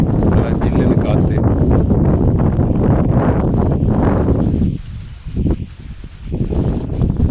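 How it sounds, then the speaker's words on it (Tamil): Cool wind on a hilltop at the Poomalai Murugan temple near Vellore buffets the microphone with loud, rumbling gusts that briefly drop away near the end, while a voice speaks over it. "நல்லா ஜில்லுன்னு காற்று"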